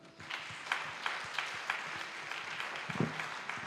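A church congregation applauding during a worship service, steady, crowd-wide clapping with a few louder, closer claps, heard without talk.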